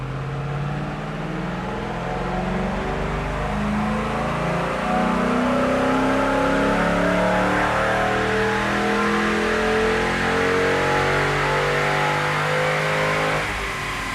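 A 2005–2010 Mustang 4.6 GT V8 with a new pulley kit revs hard on a dyno, a loud, sustained engine roar that climbs steadily in pitch over about fourteen seconds before easing off near the end.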